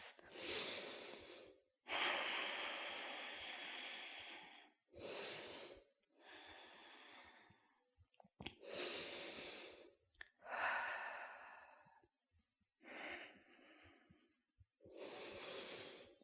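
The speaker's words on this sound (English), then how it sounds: "And then hold it there, just focusing on deepening your breath." Deep, slow breathing during a held yoga pose in a shoulder mobility flow: a series of long, close, breathy inhales and exhales with short pauses between them, about eight breaths, with no talking.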